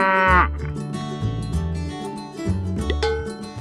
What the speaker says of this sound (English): The Hereford cow.